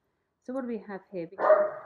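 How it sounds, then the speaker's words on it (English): A pet dog gives a short bark right after a person speaks indoors, close and brief at the end of the talk. "Excuse my dog's bark in the background."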